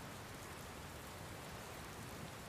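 Steady rain in the video game Dragon Quest Builders 2 hisses as a constant broadband wash, faint overall with no break and no voices.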